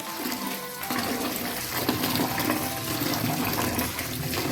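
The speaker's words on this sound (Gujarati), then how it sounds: "આ રીતે તેમાં નીચેથી પાછું આ રીતે આપણે એને પાણીથી ભરવાનું છે।" Water pouring from below into a vessel of sesame seeds being rinsed of dust: a continuous loud rushing, splashing fill that stays steady throughout with no voices.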